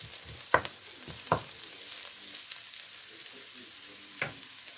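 Onions and carrots sautéing in a pan for spicy upma, a faint low sizzle with a few sharp spatula scrapes and taps spaced through it, close and quiet, no voices.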